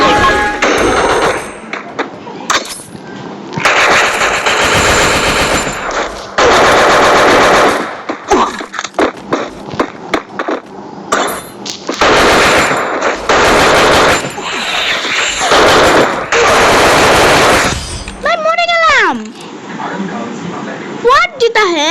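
Dense gunfire from a mobile shooter video game: long bursts of rapid automatic fire and single shots, loud and close, mixed with game effects, while a player talks excitedly throughout.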